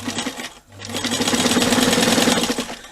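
A sewing machine stitches quilt backing, its rapid mechanical needle chatter briefly pausing, then running steadily and loudly close by.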